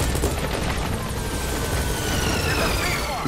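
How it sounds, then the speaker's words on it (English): A helicopter in Metal Gear Solid V thuds with a dense rotor roar amid battle noise, loud and continuous, while someone talks over it. "So we'll call the helicopter back to our landing zone."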